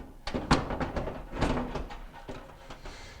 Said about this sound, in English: we'll grab our door, insert the hinges,